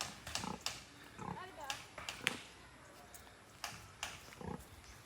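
Short, scattered pig grunts and snorts sound close by, coming in irregular bursts with brief pauses between them.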